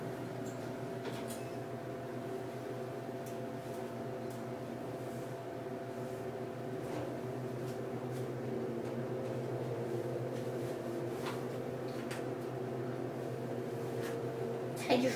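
A KONE Series 220 hydraulic elevator motor runs at SeaTac Airport in Seattle, a steady low mechanical hum with a faint whine held evenly throughout, with a few soft clicks and no talking.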